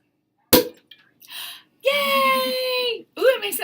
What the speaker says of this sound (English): it makes a nice popping sound like champagne